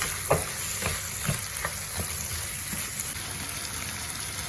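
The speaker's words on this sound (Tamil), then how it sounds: "இப்போ வந்து இந்த இறைச்சியை போட்டு வடிவா இருக்கும்" Rooster meat sizzles steadily in a pan with ginger and garlic, with repeated scraping strokes of stirring over a continuous loud frying hiss.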